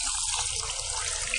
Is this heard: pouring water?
yes